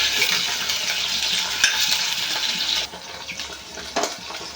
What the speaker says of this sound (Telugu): ఇవైతే ఇప్పుడు ఫ్రై అయిపోతున్నాయండి ఇంకొంచెం ఫ్రై అవుతాయి